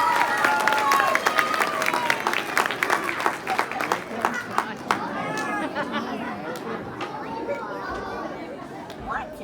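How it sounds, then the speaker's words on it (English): An audience at the 2020 Clemmons Lip Sync opening act applauds for the Mayor of Clemmons, John Wake: a burst of clapping mixed with crowd chatter and scattered shouts that thins out toward the end. "How about a nice warm round of applause for the Mayor of Clemmons, Mr. John Wake"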